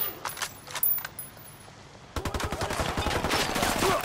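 Gunfire in Ghost Recon, starting with a few sparse distant shots and breaking into a dense, loud exchange of rapid automatic fire halfway through.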